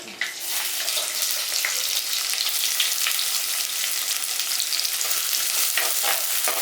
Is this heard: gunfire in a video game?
no